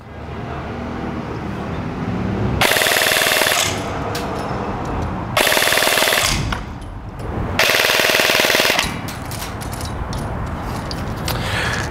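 An EMG Daniel Defense M4A1 RIS II SOPMOD airsoft AEG on an 11.1 V LiPo battery fires three loud full-auto bursts of about two seconds each, a rapid mechanical buzzing that stands alone against faint background noise.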